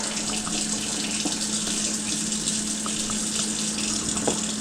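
Water runs steadily from a tap, rinsing out a cleaned rainbow trout caught ice fishing, a continuous close splashing flow with no pauses.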